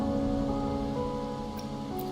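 Steady rain falls in the Wuthering Waves game, a soft continuous patter on surfaces beneath a sustained tonal music bed, with no voices.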